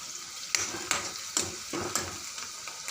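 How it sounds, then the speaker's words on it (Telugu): Onions and green chilies sizzle softly in a pan while a spatula stirs them in a series of scraping strokes, about six or seven, close up with no talking. "ఉల్లిపాయ, పచ్చిమిరకాయలు వేసుకోవాలి. కొంచెం కలుపుకోవాలి."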